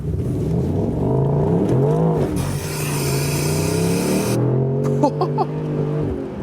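A Mercedes-AMG SL 63 with all-wheel drive accelerates hard in Sport Plus mode, its engine note climbing through rising revs with shifts between, loud and close throughout, ending with a few sharp pops.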